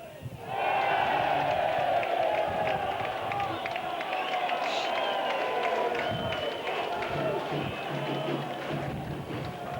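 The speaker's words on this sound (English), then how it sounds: "Everybody's cheering" Large rugby cup match crowd between Barrow and Widnes in 2005, a sustained roar of cheering and shouting from a packed ground, steady and loud throughout with a broadcast commentator's voice over it.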